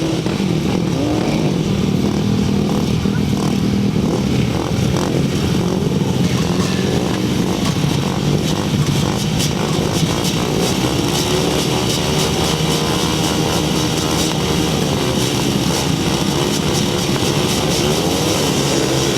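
Several 250cc grasstrack racing motorcycles roar together at a race start, a loud sustained multi-engine snarl with revving and shifting pitch that continues throughout.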